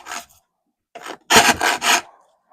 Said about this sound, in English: I'm gonna be rasping again, so check your audio